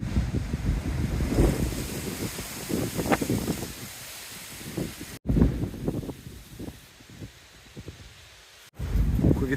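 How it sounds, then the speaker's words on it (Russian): A strong, cold west wind blows in gusts outdoors, roaring and buffeting the microphone with rushing low rumble that rises and falls, cutting out briefly twice. "Ветрюган сегодня, сейчас западный ветер дует."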